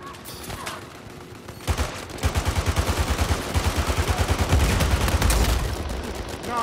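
Gunfire in Uncharted 4 multiplayer, a rapid automatic burst of evenly spaced shots that starts abruptly and hammers on for several seconds, loud and close, with a quieter lull before it and some scattered noise.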